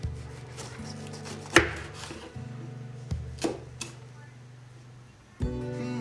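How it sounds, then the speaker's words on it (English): A knife strikes a cutting board in a few sharp, separate chops of carrot, spaced irregularly over a low steady hum. "you want to cut the carrot as small as you can"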